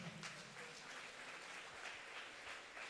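A church congregation claps during a worship service, a faint, soft wash of applause heard from a distance with no distinct individual claps.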